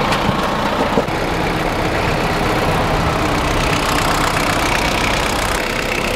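A Kubota GT-5 Japanese mini tractor engine idles steadily and close by, a continuous low chugging rumble with no voices.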